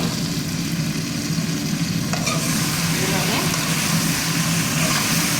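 Okra and prawns frying in a pan, a steady loud sizzle throughout with a brief stirring scrape midway and speech faintly under it.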